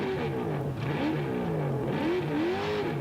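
A Gibbs race engine in a Baja off-road trophy truck at the SCORE Baja 500 qualifier, revving loudly and continuously, its pitch rising and falling as it tears past close by.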